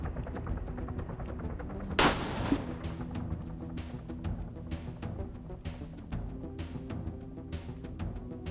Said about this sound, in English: Now we're seeing some blind suppression.